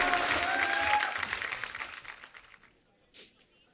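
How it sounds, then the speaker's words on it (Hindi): A studio audience at a comedy talk show breaks into dense applause that tapers off over a couple of seconds, ending in near silence with one last faint rustle. "तो एक बार फिर से जोरदार तालियां ऋतिक रोशन और वानी कपूर के लिए"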